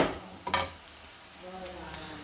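Grated carrot halwa roasts in a pan on the stove while being stirred, giving a soft low sizzle with a few sharp scraping clinks of the spoon against the pan, fairly faint.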